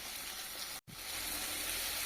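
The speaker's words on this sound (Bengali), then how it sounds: "ভালোভাবে মিশিয়ে নাড়াচাড়া করে টমেটো গলিয়ে নেব" Chopped tomato cubes stirred and frying in a hot pan, a steady close sizzle and hiss with one brief cutout partway through.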